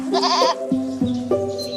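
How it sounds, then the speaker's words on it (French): Goats and sheep from an eco-pastoral flock at Bozouls in Aveyron bleat loudly and nearby, with several wavering calls overlapping and following one another in quick succession. "Ânes, brebis et chèvres font partie de l'éco-pastoralisme"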